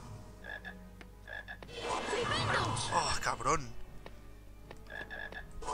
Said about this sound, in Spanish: Hay ranas ahí, ¿eh?